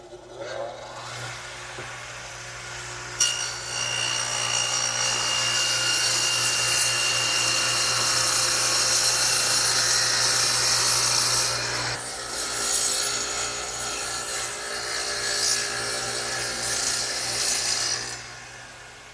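A radial arm saw cuts a quarter-inch-deep, three-quarter-inch-wide groove across a 2x4, a steady whining, rasping cut that starts abruptly and runs for about fifteen seconds, with a motor hum underneath.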